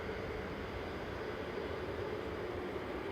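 A five-year-old Lufthansa Airbus A320neo jet departs Manchester Airport for Munich, its engines a faint, steady distant roar through the brief moment, with no voices.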